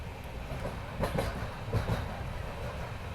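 A passenger train running along the Mangaluru to Goa coastal line in heavy rain, heard from on board as a steady rumbling roll with a few louder clattering bursts of wheels over joints.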